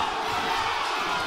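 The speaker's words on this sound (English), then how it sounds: "The crowd's really getting on their feet now." A crowd at a live boxing match roars and cheers loudly and continuously, a dense wall of many voices.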